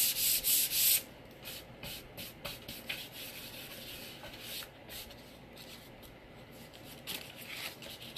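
Painted wood gets hand sanded, a burst of loud fast rasping strokes at first, then quieter, irregular scrubbing and light scratches close by.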